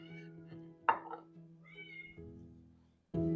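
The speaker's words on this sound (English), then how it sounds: "Oh my gosh, there goes that cat." A cat meows loudly and insistently from behind a closed door, with a few yowls over a quiet kitchen hum.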